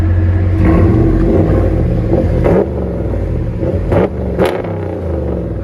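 A RAM 1500 pickup with a 5.7L HEMI V8 on aftermarket exhaust revs up and settles back, a loud, deep, raspy rumble close by, with several throttle blips and a steady low drone throughout.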